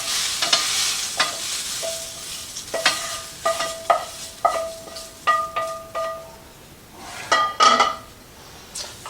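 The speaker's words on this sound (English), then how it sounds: "And so I'm going to transfer off these vegetables." Cooked vegetables are scraped and moved out of a hot skillet with repeated utensil scrapes and clinks against the pan, all under a steady sizzle with no talking.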